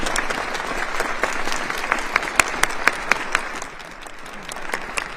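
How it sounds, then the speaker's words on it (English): Audience applause for World War II veterans at a Connecticut tribute gathering, a steady bed of clapping with a few sharp, louder claps near the front that thin out toward the end. "we have a round of applause for all of our veterans"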